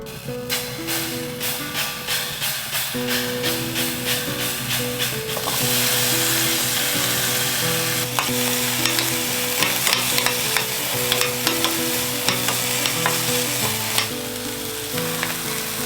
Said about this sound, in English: I'm cooking on a bloody wood stove.